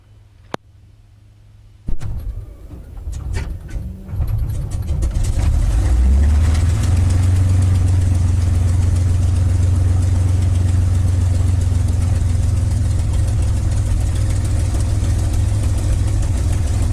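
A P-51 Mustang aircraft engine cranks and catches after a short pause, then settles into a loud, steady, rumbling idle that continues without a break.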